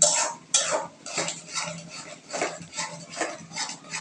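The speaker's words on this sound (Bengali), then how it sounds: "সুন্দর করে নাড়াচাড়া করতেছে।" A spoon stirs prawn curry seasoned with chili powder in a cooking pan, giving repeated close scraping and clattering strokes in a loose, uneven rhythm with no voices.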